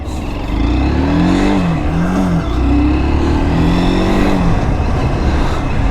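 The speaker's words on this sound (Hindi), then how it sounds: "तो चलिए इस बाइक को चला कर देखते हैं।" A Hero Xtreme 200S BS6 motorcycle engine revs up through several rising and falling pulls, loud and close, with a continuous low exhaust drone between throttle bursts.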